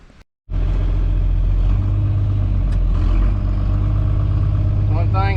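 A John Deere 4640 tractor engine runs on a test drive. After a short silent gap it kicks in as a loud, steady, droning rumble, with a brief warbling whine near the end.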